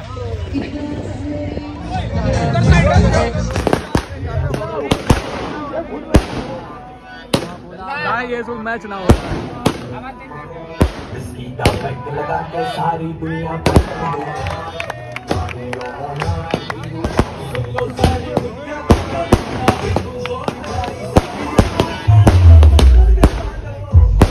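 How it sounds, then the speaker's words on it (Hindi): Firecrackers exploding in a rapid irregular series of sharp cracks and pops, under lively talk from people nearby. "ये कोई पटाखा लगा रहा है"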